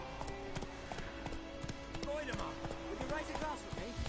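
Horse hooves clip-clopping in The Witcher 3, a steady run of quick hoof strikes under a player talking throughout.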